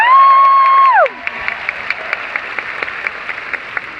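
A seminar audience at a 2014 Mary Kay Ruby Seminar breaks into applause as a sustained musical tone slides down and drops away, leaving a steady, moderately loud wash of clapping with scattered sharper claps.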